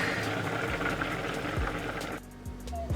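Beef stew simmering in a pot, a steady close bubbling and gurgling that drops away abruptly near the end, with no talking.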